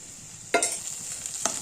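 Spices being stirred into oil in a hot pan for fried rice, a quiet sizzle with two sharp scrapes of the spoon against the pan.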